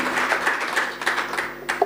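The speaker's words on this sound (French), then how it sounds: "On applaudit Massa pour cette brillante présentation." An audience at a contest's grand final applauds a finalist's presentation, a steady broad wash of clapping that holds for about two seconds without pause.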